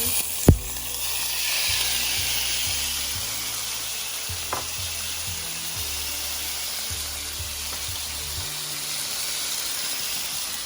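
Pork meat frying in a pot, a steady loud sizzle and hiss continuing throughout, with a sharp clank near the start and occasional faint stirring knocks.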